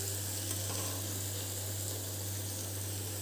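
Onions sautéing in oil in a pan, a steady, fairly quiet sizzle and fry that runs unbroken throughout over a low constant hum, with no talking.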